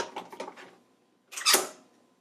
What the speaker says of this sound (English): You heard that click?